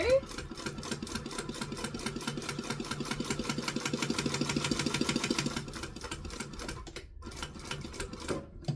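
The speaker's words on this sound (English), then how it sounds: "I'm going to stitch, stitch, back stitch" A sewing machine stitches into a corner of fabric with a rapid, steady mechanical clatter, briefly pausing and restarting for a backstitch, close and moderately loud.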